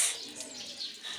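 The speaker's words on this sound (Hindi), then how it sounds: "कितनी प्यारी सी आवाज़ें आ रही हैं चिड़ियों के चहचहाने की" Small birds chirp and coo in a morning outdoor setting while plants are being watered, a steady bright twittering chorus running through the whole moment with no talk over it.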